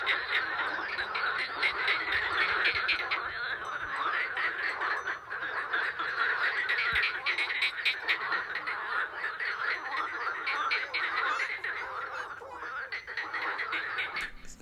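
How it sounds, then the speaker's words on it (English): Dense chorus of many frogs croaking continuously, a thick, steady wall of rattling calls filling the whole stretch at even loudness, with no voices heard. "that was Ivanka's frog video"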